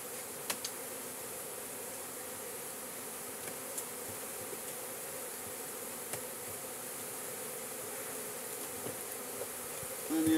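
Honey bees swarm around an opened hive being split, with frames of comb not yet capped; a steady, dense buzzing hum fills the air throughout, with occasional individual bees passing close by.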